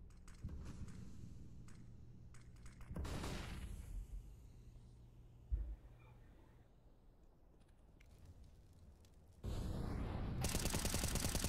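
Gunfire in a professional Counter-Strike match on the Mirage map, a few sharp shot bursts between quieter stretches and one louder sustained burst near the end, heard close over game ambience with no speech.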